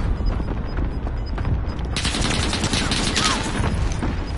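Dense bursts of gunfire fill a video game battle, loud and continuous, with the firing intensifying sharply partway through into a rapid automatic barrage.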